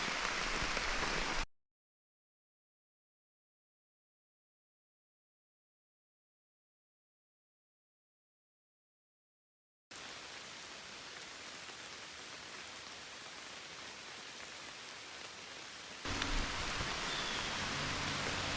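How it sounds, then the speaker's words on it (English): Steady rain drumming on a tent, a dense hiss broken by a long stretch of silence, then resuming continuously and slightly louder near the end, on the Manistee River Trail in Michigan. "I'm about to start taking the tent down in the pouring rain."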